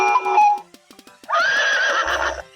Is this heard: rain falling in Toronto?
no